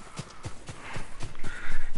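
Horse hooves clip-clopping in a steady gait in Ghost of Tsushima as the summoned horse approaches, with evenly spaced thuds growing louder and nearer over a windy outdoor ambience.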